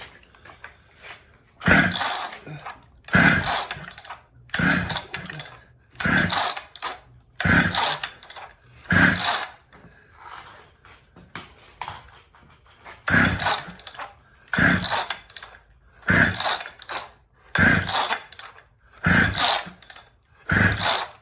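Jonsered 630 chainsaw, freshly ported and reassembled, fed fuel straight into the carburetor, firing in a string of roughly a dozen short loud bursts, each dying away before the next attempt, with no talk over it.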